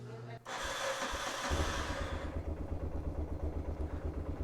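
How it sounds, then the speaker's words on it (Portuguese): A 1988 Yamaha Ténéré motorcycle engine warms up on a morning trip through the Amazon forest, settling into a close, steady pulsing idle after a brief rise. "Aquecer os motores."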